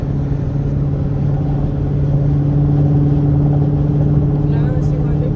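A straight-piped Dodge Charger R/T cruises through city streets, its engine giving a loud, steady low drone with a constant rumbling hum and no sharp revs.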